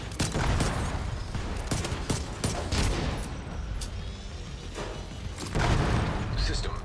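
Gunfire from the video game The Division 2 rattles in dense, rapid bursts with scattered heavier booms, loud and continuous throughout, with a voice talking faintly underneath.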